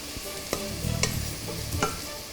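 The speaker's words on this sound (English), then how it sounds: "Give that a quick stir through." Onions and red chili powder are stirred in a hot, oiled pan, a constant close sizzle with a few scraping strokes and light taps of the utensil.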